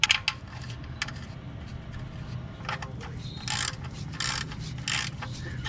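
Ratchet wrench with a flex head tightening the drain plug on a 2017 Toyota Highlander during an oil change, giving several short bursts of quick close clicking over a low steady background hum, with no talking.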